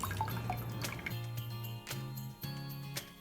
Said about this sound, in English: I'll pass it through a mesh and I will rinse it with lots of cold water